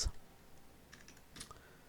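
Computer keyboard keys are tapped in a short quiet burst of a few soft clicks, close by, with near silence around them.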